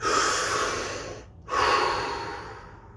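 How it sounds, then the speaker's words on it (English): Two deep breaths during a relaxation exercise, a long close airy inhale tapering off, a short pause, then another full breath that fades slowly. "take a deep breath"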